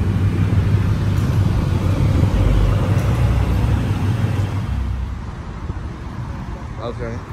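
A Dodge Challenger with a 5.0 engine runs with a steady, deep low rumble close by, holding fairly loud before easing off slightly toward the end.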